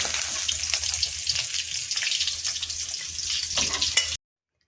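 Pieces of rohu fish fry in oil with a steady, close sizzle and crackle, broken by occasional pops and stirring scrapes, before cutting off abruptly.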